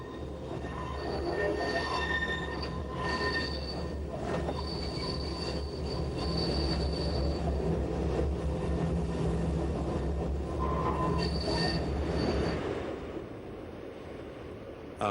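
An Appenzell Railways train creeps slowly along track near St. Gallen station, its wheels squealing in high, drawn-out shrieks over a low rumbling roll, loud and close, with no voices.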